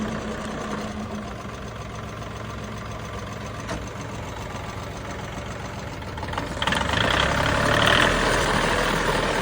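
A Kubota ZL1 225 tractor engine runs steadily at a low idle-like drone, growing somewhat louder and rougher near the end as the rotary tiller attachment works; no talking.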